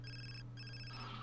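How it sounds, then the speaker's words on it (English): Sims 4 phone ringing with two bursts of electronic trill separated by a short pause, clear and fairly loud over a steady low hum. "Oh, his phone's ringing."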